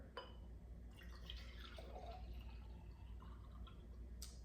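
Homemade electrolyte drink is poured into a wide-mouth jar, making a faint, steady trickle and splash with no talking.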